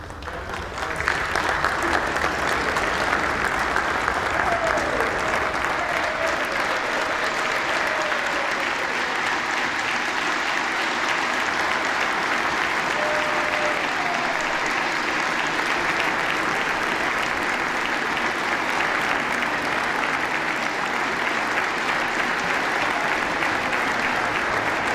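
A crowd of House members on the chamber floor applauds and cheers loudly during a vote for Speaker. The sound is a dense, sustained roar of clapping that hardly changes for about twenty-five seconds, with a few voices rising above it.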